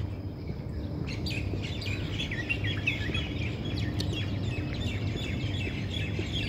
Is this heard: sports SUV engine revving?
no